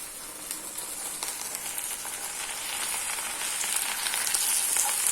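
Mint leaves and green chillies fry in a pan, a close, continuous hissing sizzle that slowly grows louder.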